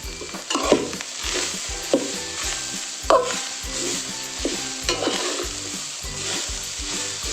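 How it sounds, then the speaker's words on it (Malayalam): Dry ingredients for Kerala chammanthi podi (chutney powder) rattle and scrape in a pan over low heat as they are stirred, with steady crackling and periodic louder scraping strokes; no voices. "അപ്പോൾ ചെറു തീയിൽ നന്നായിട്ട് വറുത്തെടുക്കണം"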